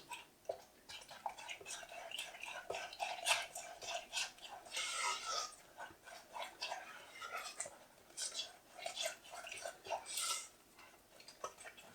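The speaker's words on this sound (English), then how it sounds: "crack it in, and we'll mix the egg in." An egg being mixed into brownie batter in a bowl, soft quiet scraping and tapping of a utensil in a loose irregular rhythm, with faint whispery speech underneath.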